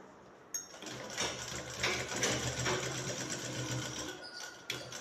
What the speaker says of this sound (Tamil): கேன்வாஸ் அடிப்பகுதியில் துணியை கம்ப்ளீட்டாக மடக்கி கேன்வாஸ் மேலே தைக்கிறோம்